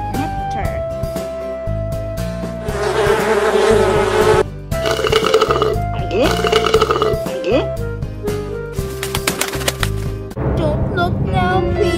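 Cartoon bees buzz around sweet nectar, a busy insect drone that swells in bursts between lively cartoon music and sound effects, with characters talking over it.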